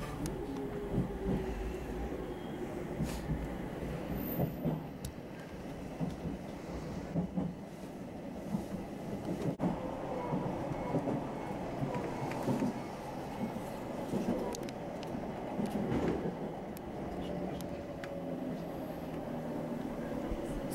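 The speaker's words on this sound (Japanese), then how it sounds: "発車したと同時に対向列車の701系が見えてきました。" A train departs and runs along the rails near Sendai, giving a steady, fairly loud rumble with faint rail clatter throughout, heard close from on board or beside the track.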